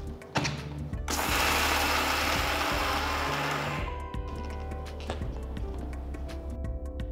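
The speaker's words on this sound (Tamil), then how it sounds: "ஒரு மிக்சர் ஜாரில் வறுத்து அரைச்ச வேர்க்கடலை, பொட்டுக்கடலை, அவலை சேர்த்து நல்லா பொடிச்சிருங்க" A mixer grinder jar grinds roasted peanuts, roasted gram and poha into a coarse powder for aval ladoo. The motor whirs loudly in a sustained grinding burst, then runs on more quietly as it winds down.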